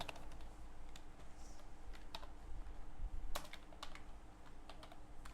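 Computer keyboard clacking while HTML table td tags are typed, a quiet, irregular run of close key taps with short pauses, over faint room noise and no speech.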